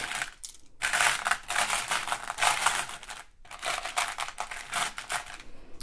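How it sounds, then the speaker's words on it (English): Loose jewelry beads click and clatter against each other as hands rummage through a pile of leftover focal beads, bursts of dense rattling close by, separated by brief pauses. "Does anybody else like the sound of beads clicking against each other?"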